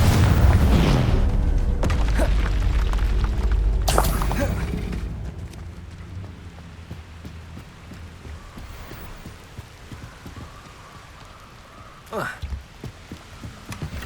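Confringo fire spell explosions in the Hogwarts Legacy video game, with a loud rumbling blast at the start, another boom around four seconds, then quieter crackling combat sounds and a sharp hit near the end.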